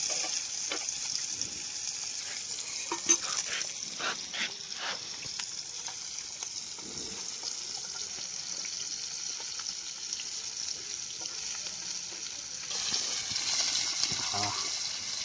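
Fish fries in a pan with a soft, continuous sizzle, with a few faint clinks early on and the frying swelling slightly louder near the end.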